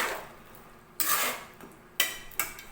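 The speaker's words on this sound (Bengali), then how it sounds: "এটাকে মিক্স করে নিচ্ছি।" A spoon stirs fish Manchurian gravy, with water and salt just added, in a pan: quiet swishing, then three sharp scraping clinks against the metal about a second apart, close and alone.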